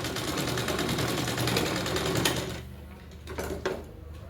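Sewing machine stitching a katori-cut blouse, a steady rapid mechanical whir running close and loud for over two seconds, then stopping into quieter handling clicks and taps.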